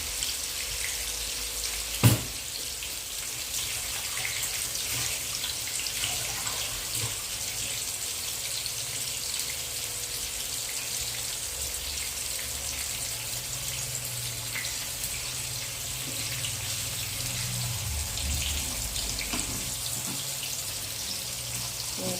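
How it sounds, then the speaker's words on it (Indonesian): Tap water running steadily into a sink during handwashing in a home kitchen, a continuous close hiss and splash with one brief knock early on. "Cuci tangan dulu."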